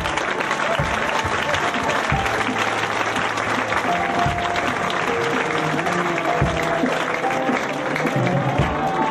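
Congregation applauding steadily throughout a church worship service, a dense wash of clapping with scattered cheers and voices mixed in, loud and continuous.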